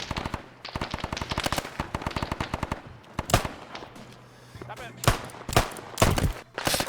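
Rapid automatic gunfire and single gunshots from an Arma 3 firefight set during a 1960s German patrol, long loud bursts crackling in the first half, then sharper scattered shots and short volleys after a brief lull.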